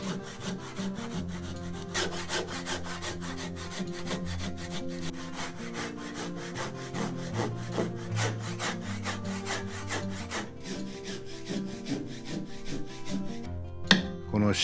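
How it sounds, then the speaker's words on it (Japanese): A hand-cut groove is worked into a hinoki wood sill, giving steady, rhythmic rasping strokes of wood being cut, close and continuous with no talk. "見てもらうと分かりますけどもそういう細い目地を掘ります。"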